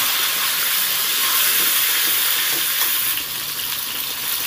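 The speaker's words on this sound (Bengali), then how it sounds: "আলুটাকেও ভালো করে নেড়ে চেড়ে ভেজে নেব।" Cut potatoes fry in hot oil for a jackfruit curry, producing a dense, loud, continuous hiss of sizzling with faint stirring underneath.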